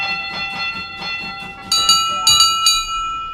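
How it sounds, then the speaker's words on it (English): A tram engine's bell rings loud and close, several bright metallic strikes in quick succession over a faint background hum. "Toby rang his bell and made the policeman jump"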